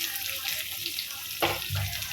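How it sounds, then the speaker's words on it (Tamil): Onions and green chillies fry in hot oil for chilli chicken, giving a steady, close sizzle with a few brief utensil clatters and stirring bumps. "இது எல்லாத்தையும் அந்த எண்ணெயில் போட்டு பொரிச்சு எடுத்துக்கலாம்."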